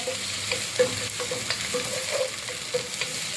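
Crushed soup ingredients sauté in a pan, giving a steady close sizzle broken by repeated light scrapes and taps of a stirring spoon, with no talking.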